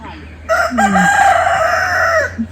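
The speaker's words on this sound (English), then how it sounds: "That's the rooster" A rooster crows once, loud and close, a full drawn-out cock-a-doodle-doo outdoors along a trail to a double decker root bridge in Meghalaya, with no talking.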